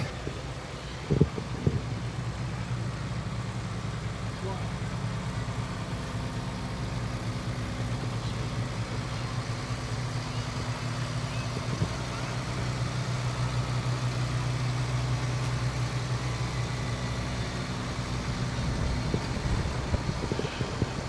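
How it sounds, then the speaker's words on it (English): A 1978 John Deere 4040 tractor idles at a nighttime lighted tractor parade in Linesville, giving a steady low diesel rumble that holds evenly throughout, with a few faint knocks and bumps near the start. "Blake Horn on a 1978 John Deere 4040"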